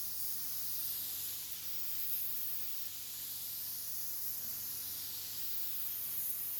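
A spray gun hisses continuously outdoors as a second coat of paint is sprayed onto a Triumph 1500 bonnet, the steady airy rush swelling and easing slightly.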